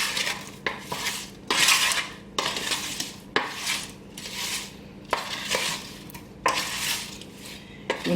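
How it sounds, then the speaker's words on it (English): Oil-coated potatoes stirred on a metal roasting tray, a series of close scraping clatters of utensil on metal in irregular strokes, roughly a dozen bursts with short gaps between, no voices. "so give it a nice stir"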